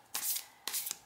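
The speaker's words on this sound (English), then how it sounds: "I'm just gonna shuffle again." An oracle card deck shuffled by hand, two quick close riffling bursts of cards with a brief pause between, crisp and soft, with no talk.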